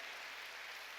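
A church congregation claps together during a sermon at a Jesus-centered church, a steady, fairly faint wash of applause that holds evenly throughout with no voice over it.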